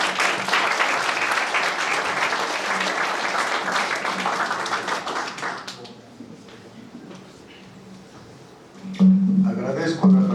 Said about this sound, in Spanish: recibimos a nuestro presentador con un fuerte aplauso,